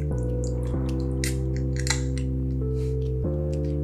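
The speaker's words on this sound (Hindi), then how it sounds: "ये तो बिल्कुल स्ट्रेट फॉरवर्ड टिन खुलने वाला है" A tin being opened for a product shot, with a jolt and then the lid coming free: a cluster of sharp metallic clicks and scrapes over a steady droning music bed, no voices.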